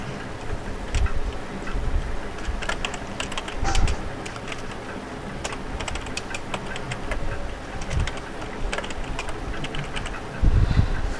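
Fingers tap a computer keyboard while typing in a word processor, with irregular light clicks and key presses scattered over a steady low room hum.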